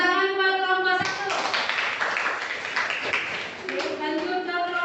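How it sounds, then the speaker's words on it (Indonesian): A classroom group claps for the first group's presentation, a dense burst of hand claps lasting a few seconds, with voices talking before and after. "Tepuk tangan buat kelompok 1."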